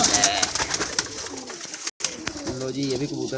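Pigeons for sale coo in a low, steady murmur, with brief chirps and other bird sounds mixed in. Background noise runs throughout, a short dropout falls midway, and a person talks nearby.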